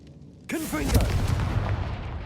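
Confringo explosive spell in Hogwarts Legacy bursting with a sudden loud boom and rumbling blast after a faint start, with a voice call at the onset.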